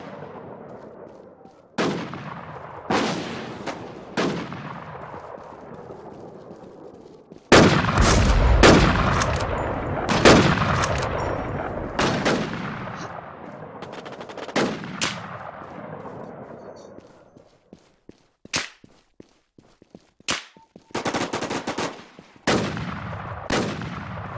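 Gunfire in the video game Warz, a series of sharp, loud shots fired singly and in quick bursts with gaps between them, each one ringing out and echoing before fading.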